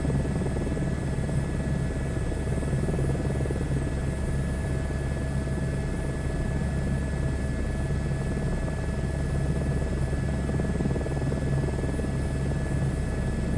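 Steady, loud drone of an aircraft in flight while coming in to land over a city, continuous and unbroken with no other sounds standing out.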